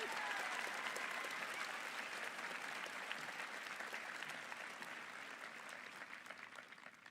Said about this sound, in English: Please give all these people a round of applause.